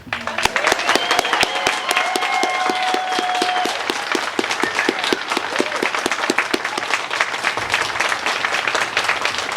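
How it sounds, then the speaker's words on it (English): Sustained audience applause for veterans at a Veterans Day ceremony, loud and dense clapping with a few cheers and whistles over it, running steadily throughout. "please, audience, help me give these guys a round of applause and tell them Happy Veterans Day"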